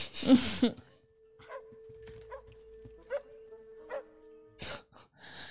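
A dog barks and yips in the 2006 animated film Monster House, several sharp close barks spaced across a steady background tone, with brief voices near the start and end.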